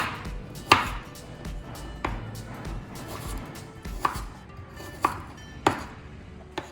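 A kitchen knife chops through potatoes on a cutting board, sharp knocks landing at an uneven pace, about eight distinct cuts, close and clear above faint background hum.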